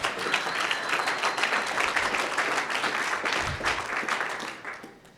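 Audience applause at a Boy Scout troop's 100th anniversary celebration, a sustained wash of clapping from a large crowd that fades out at the end.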